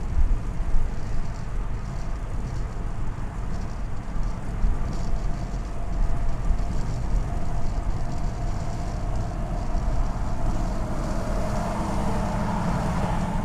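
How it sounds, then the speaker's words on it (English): A loud truck passes on a city street in Austin, heard as a broad, heavy engine and tire rumble that fills the clip and swells slightly near the end, close and continuous, with no voices. "Ooh, loud truck."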